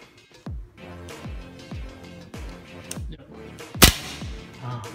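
An MST TTI Combat Master 2011 gas gel blaster dry-fires with no gel balls loaded, giving about seven crisp cracking pops with ringing tails and one much louder crack near the end, with faint background sound between them.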